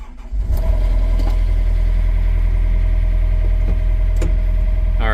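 A John Deere 50G compact excavator's diesel engine turns over and catches, then settles into a steady, loud idle with a low rumble that continues close by for the rest of the clip.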